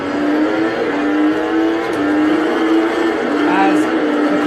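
Racing car engine from a race simulation video game with a Lewis Hamilton car, a steady droning whine held throughout under continuous talk.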